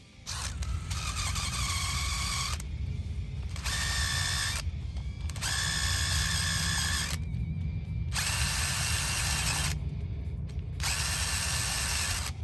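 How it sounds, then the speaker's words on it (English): A power drill whirs loudly with a wire bristle brush grinding rust off a metal brake rotor, running in long bursts separated by short pauses. "you can get these bristles for attachment for your drill"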